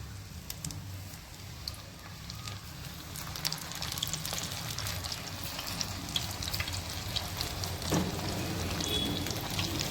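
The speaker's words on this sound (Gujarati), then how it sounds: "હવે આપણે તેલ ગરમ થાય એટલે ભજીયા બનાવી નાખીએ." Bhajiya fritters of gram-flour batter with chillies fry in hot oil, a soft continuous sizzle with scattered crackles and pops that runs the whole time at a fairly low level, without voices.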